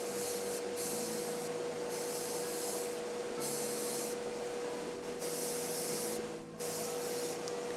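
An airbrush spraying paint onto miniature soldier figures, a continuous close airy hiss broken by short regular pauses as the trigger is released and pressed again, with a faint steady compressor hum underneath and no talking.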